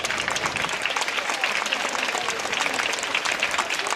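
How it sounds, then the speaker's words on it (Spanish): An audience at a Santo Domingo festival proclamation in Alcorcón applauds the women volunteers with steady, even clapping. It is heard from somewhat far off and keeps a constant level for the whole stretch. "que pido un aplauso para todas ellas"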